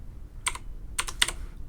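A few quick keystrokes on a computer keyboard while working in DOS, one short tap then a small cluster of clicks, close and faint.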